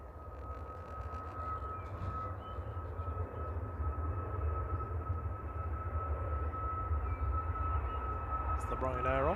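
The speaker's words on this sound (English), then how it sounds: "2148 to Krakow now, Max 8, EIJB on the roll" A Ryanair Boeing 737 Max 8 at Manchester Airport begins its takeoff roll, a steady distant engine roar with a sustained whine building slowly under a commentator's talk.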